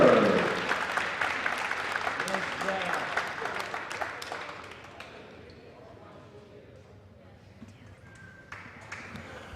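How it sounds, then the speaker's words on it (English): Applause from an audience at a high school basketball game, loud at first and fading over several seconds into a quieter, scattered clatter. "A great round of applause for Clara Berg."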